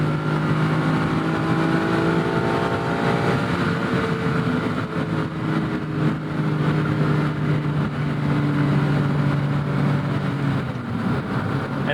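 1988 BMW M5 E28 engine revving up toward 7000 RPM, a loud sustained rising howl with climbing harmonic tones that holds strong for several seconds, no talking over it.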